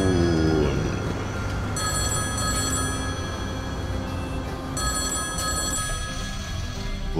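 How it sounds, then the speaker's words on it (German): A telephone rings in the farming game Landwirtschafts-Simulator 17, two bursts of bright trilling bell tones over a low droning vehicle engine hum, fairly close and clear. "Telefon."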